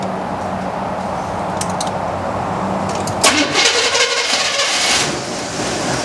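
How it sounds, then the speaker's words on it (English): A K10 squarebody truck engine cranks with a steady starter whir for about three seconds, then catches and fires, settling into a rough idle, close by with no talking. "you want to turn it over and crank it up?"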